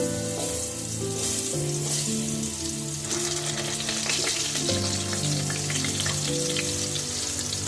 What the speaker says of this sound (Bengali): গরম তেলে আগে আলুগুলো ভেজে নেব